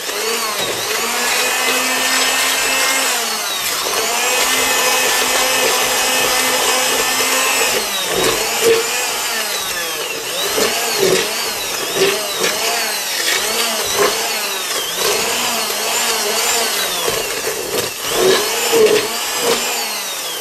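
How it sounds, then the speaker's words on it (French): Immersion blender whirring steadily through a cajun chicken sauce, a loud continuous motor hum with pitch dips as the blade hits chunks, then shorter pulsed bursts in the second half. "maintenant avec un mixeur plongeur, on va mixer tout ce mélange"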